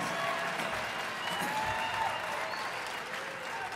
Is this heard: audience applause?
yes